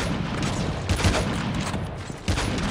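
Rapid gunfire crackles in the Call of Duty video game, a dense overlapping fusillade of shots with a few heavier bursts standing out over the short stretch.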